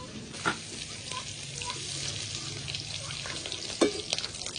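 Prawns fry in a pan with a continuous close sizzle, punctuated by a few sharp clinks and stirring scrapes, moderately quiet overall and with no talking.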